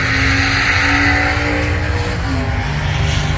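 A race car roars down a drag strip at Tulsa on a fast pass, its engine note loud and steady, with a sustained tone that shifts pitch partway through as it accelerates.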